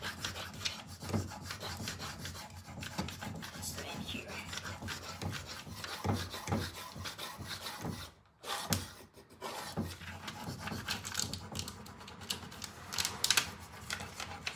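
A decor transfer is rubbed onto a wooden chest, giving a close, continuous rasping scrape in rapid strokes, with a brief pause midway before the rubbing resumes.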